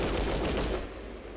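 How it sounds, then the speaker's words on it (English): Gunfire from the Fallout Tactics: Brotherhood of Steel game rattles out loud and dense as a short burst, then cuts off into fading quiet. "why don't we burst fire at this guy?"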